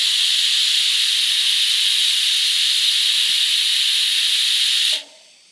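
Steady, loud TIG welding arc on a scrap piece from an ARCCAPTAIN 200P AC/DC welder, a continuous bright hiss for about five seconds that cuts off abruptly, leaving near silence.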